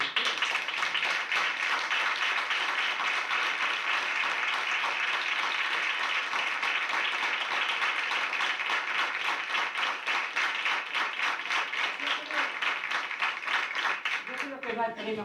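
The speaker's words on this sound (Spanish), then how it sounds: "Un aplauso." A theatre audience gives sustained applause, many hands clapping at a steady, even level, with rhythmic individual claps audible in the mass and only slight thinning near the end.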